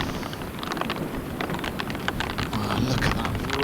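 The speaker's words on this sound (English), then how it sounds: "Look at that rain just pelting into that camera lens." Heavy rain pelting a television camera lens outdoors during a golf tournament's final round, a dense steady patter and wash of drops that stays loud and continuous throughout with gusty wind noise underneath.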